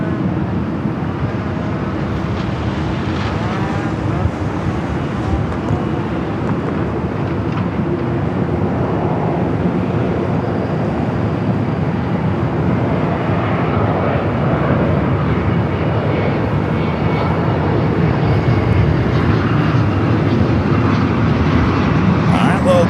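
An airliner rolls down runway 24 left at LAX for a departure to Mexico City, a steady loud broadband engine roar building slightly over the run with no break.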